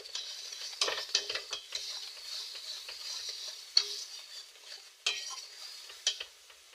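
Spice paste for pabda fish curry sautéing in a pan, with a steady soft sizzle and recurring scraping stir strokes, spaced irregular spatula scrapes standing out near and moderately quiet.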